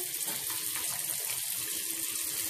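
Tap water running steadily over an aquarium filter from a betta fish tank as it gets rinsed in a sink, a close, continuous splashing rush with no voices.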